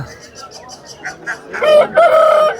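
A rooster crows loudly and close by at a poultry market after a series of soft rhythmic clucks, the crow rising and breaking at the end.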